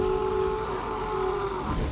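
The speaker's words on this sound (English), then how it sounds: "I love that he sounds like a train." In the Total War: Warhammer video game, a Taurox unit on the move gives a loud, sustained train-like sound with a steady horn-like tone over rumbling, heard alone without talk.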